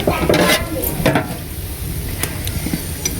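A pot of fish curry simmering on the stove, heard as a soft bubbling and sizzling hiss with a few stirring and scraping noises against the pot close by, and no talking.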